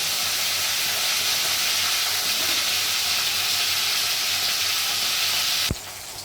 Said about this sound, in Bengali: এগুলো ছেড়ে দিই তেলের মধ্যে। একটু কড়া করে ভাজলে